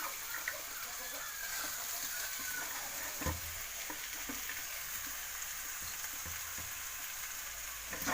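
Moringa leaves and flowers frying in a pan, a faint steady hiss of sizzling oil with occasional soft stirring scrapes, quiet and close, no voices.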